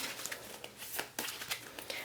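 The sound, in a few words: shuffling tarot cards on a desk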